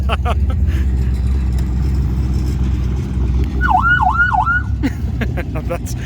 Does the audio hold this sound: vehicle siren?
yes